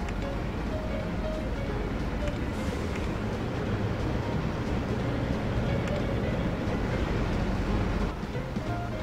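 A train runs steadily in Chris Sawyer's Locomotion, a continuous rumbling, rushing roll that holds at an even level throughout with no talk.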